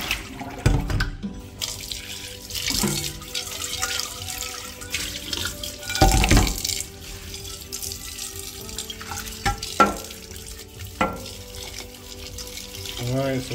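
Tap water runs and splashes into a kitchen sink as grasshoppers are rinsed, in uneven bursts of gushing and dripping, with people talking nearby.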